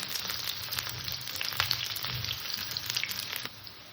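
Potato and pumpkin pieces fry in a pan with a steady, fairly quiet sizzle and occasional crackles, softening toward the end.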